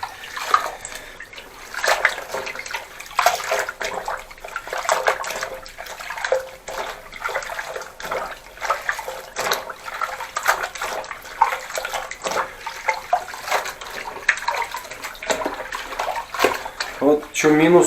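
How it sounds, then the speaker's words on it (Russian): Clothes being washed by hand in a hotel sink in Sichuan, China, with steady splashing and sloshing water close by throughout, and a voice talking over it at times. "Решил сам все постирать в раковине, чтобы их не тревожить там."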